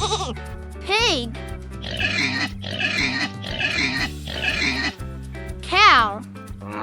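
A pig's grunting oinks run together in a steady stretch over music, framed by brief high sung voice phrases before and after.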